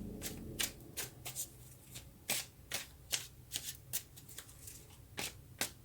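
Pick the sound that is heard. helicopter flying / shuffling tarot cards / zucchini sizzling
shuffling tarot cards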